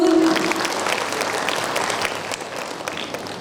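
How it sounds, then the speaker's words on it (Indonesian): Audience applause fills an indoor talk show hall at a city book festival, a steady burst of clapping from a sizeable crowd that is loudest at the start and slowly tapers off. "Kita berikan aplaus dulu."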